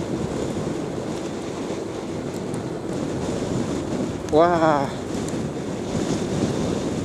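Strong wind roars and buffets steadily on a motorbike ride along the Pantura road from Karawang, a constant rushing blast with a short voiced exclamation partway through.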